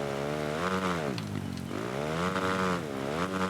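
A motocross bike engine in the MXGP Pro video game revs hard, its buzzing tone sweeping up and down in repeated waves as the throttle opens and shifts, loud and continuous.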